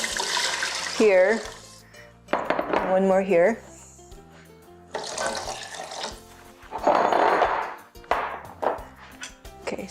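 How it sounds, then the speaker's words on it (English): Cups of water poured into a soup pot of softened onions, several separate splashing pours with pauses between them, while a person talks briefly over them. "I'm going to go ahead and add the water. So we have 5 cups of water."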